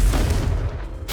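A Confringo fire spell blast in Hogwarts Legacy bursts out as a loud, booming explosion with a low rumbling tail that fades and then flares up again at the end, with no voices.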